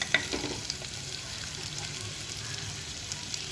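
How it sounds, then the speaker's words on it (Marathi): Chopped onion sautéing in hot oil in a pan, a soft, continuous sizzle with a brief clatter near the start, faint and steady throughout. "तेल थोडं गरम झालं की त्यात कांदा कांदा परतूया"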